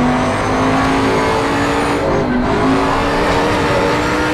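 Race car engine in Assetto Corsa Competizione roaring steadily and loud throughout, a sustained high-revving drone with a slight dip in pitch midway, no voices over it.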